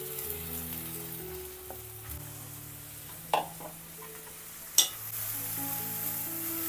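Lentils tipped into a hot ginger-garlic tempering for a Marathi home lunch set off a steady sizzle and frying hiss, with a couple of sharp clatters from stirring partway through.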